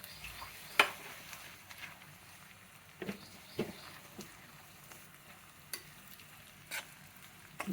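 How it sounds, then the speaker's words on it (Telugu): Semolina (rava) fries in a pan with onions for upma while a spoon stirs it, giving a faint soft sizzle broken by scattered scraping taps and clinks at irregular intervals. "రవ్వ కూడా ఒక 2 నిమిషాలు వేయించుకోవాలండి"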